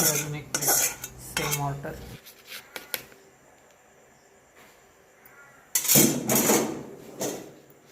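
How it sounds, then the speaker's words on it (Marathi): Plates and cutlery clink during plating of egg bhurji at a busy dhaba kitchen, with bursts of clattering dishware near the start and again toward the end, and people talking in between. "ते आता अंडाबुर्जी पण बनले प्लेटिंग करायला चालू आहे"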